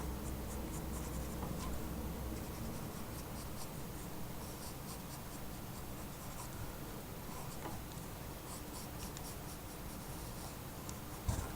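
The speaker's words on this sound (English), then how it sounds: "we're going to go ahead and draw some normal looking eyes" A pencil scratches continuously across paper while drawing manga-style eyes, a soft, close, steady rubbing with faint short strokes throughout.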